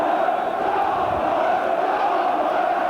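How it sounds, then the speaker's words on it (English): A nearly full football stadium crowd roars as a continuous dense wash of voices and chanting at a Middlesbrough versus Aston Villa match in 1990, loud and steady throughout. "The crowd here, nearly a full house, most of them right behind Middlesbrough"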